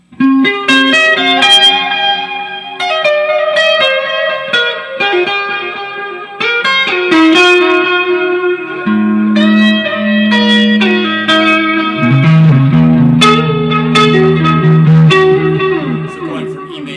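A melodic distorted electric guitar solo of quick runs and bent notes plays continuously for a long stretch, loud and bright, with no talking over it.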